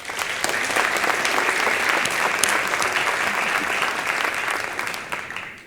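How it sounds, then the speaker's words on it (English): An audience at a State of the City 2024 address claps in sustained applause, dense and loud, holding steady before tapering off at the end. "let's give them a round of applause"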